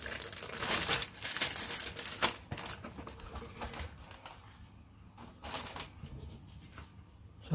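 Plastic bag crinkling around a Hasegawa 1:48 Arado 234 B-2 model kit's parts, close and fairly loud, with bursts of rustling and crackling that ease off toward the end.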